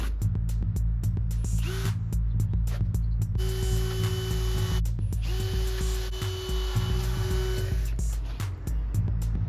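A power drill whines in repeated bursts, driving deck and fence screws into wood with rattling clicks and pauses between runs, close and loud over a steady hum.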